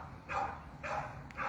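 Puppy barking in short yips, two or three separate bursts close to the microphone, with no talk over them.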